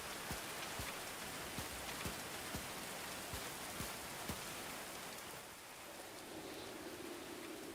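Rain falling in the medieval colony game Going Medieval, a steady dense wash of drops with scattered sharp ticks and taps throughout, quiet and continuous with no talking.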